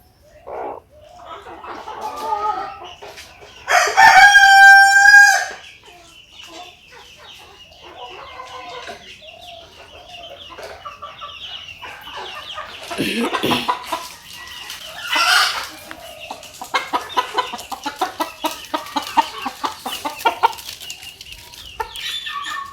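Laying hens on a farm cluck and murmur close by throughout, with one loud, drawn-out rooster crow early on and more bursts of excited clucking later.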